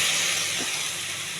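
Onions sizzling steadily in a pan while cooking for a drumstick curry, a constant close frying hiss with no voices.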